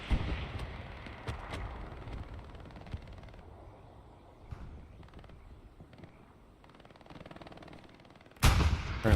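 Machine gun fire in the World War II shooter Hell Let Loose, distant rattling bursts and scattered gunshots fading over a quiet field, followed by a sudden loud close burst at the end.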